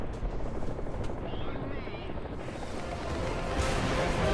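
A helicopter in the War Thunder tank battle game, its rotor giving a dense, continuous chopping thrum close by, steady and loud throughout, with occasional faint voice underneath.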